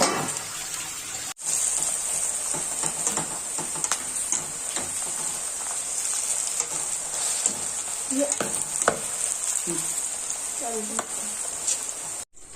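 Sweet corn kernels fry in hot oil under a lid for crispy corn fried rice, giving a steady close sizzle with scattered sharp pops and clatter, while someone speaks briefly over it.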